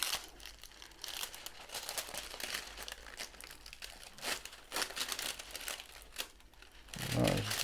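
Protective film being peeled off a diamond painting canvas, a continuous close crinkling and crackling with irregular tearing bursts for several seconds, with no talking.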